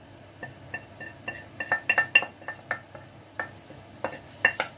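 Chicken being mixed with condiments in a bowl, a quick irregular run of light clinks and taps of utensil against the dish, close and fairly faint, without talk.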